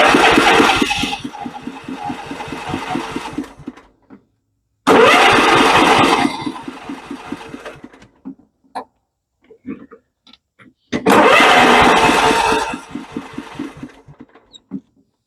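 A John Deere STX38 tractor's Kohler 12.5 HP engine cranks loudly in three long bursts of rapid rhythmic turning, with a brief sputter of firing between attempts and pauses of silence.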